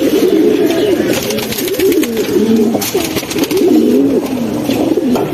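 Silver and mongoose pigeons coo together in a home loft, a steady overlapping chorus of low, rolling calls close by, with no voices.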